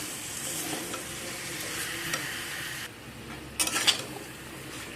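Mango pickle with sugar melting over a low-to-medium flame is stirred in a pan without added water, giving a steady soft sizzle with light scraping, a quieter stretch, then a few louder clinks near the end.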